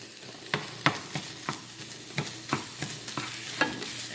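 Spatula stirring meat frying in a pan for a grilled cheese philly, steady sizzle broken by a run of sharp scraping and tapping strokes at an irregular rhythm, close and fairly loud, with no talking.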